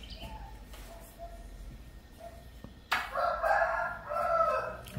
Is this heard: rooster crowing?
yes